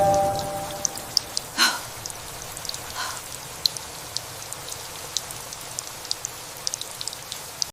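Rain sound effect for a Korean radio drama, a steady hiss of falling rain with scattered drips and drops, a couple of brief louder thumps early on, no voices.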